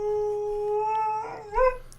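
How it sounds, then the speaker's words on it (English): A dog howls steadily in a long, clear, rising-and-falling tone, then breaks into a brief yelping whimper at the end, close by and alone with no talk over it. "Would you like to go calm your dog down?"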